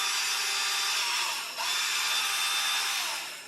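Milwaukee M12 sander/polisher running on its lowest polishing speed, a steady close whirring hum that dips briefly in the middle and tapers slightly at the end, with no talk.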